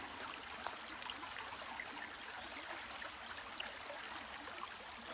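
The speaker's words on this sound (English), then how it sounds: "I did find a stream, and I love to hear the water running." A small woodland stream runs steadily through the whole stretch, a soft continuous babble and trickle of water close by, with no voices.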